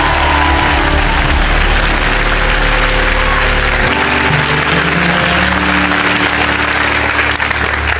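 A church congregation applauds loudly and steadily throughout, a dense wash of clapping with a low rumbling hum underneath that drops away partway through.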